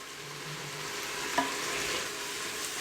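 Spices sizzle softly in hot oil inside a pressure cooker, a steady faint frying hiss with one small clink of a utensil partway through.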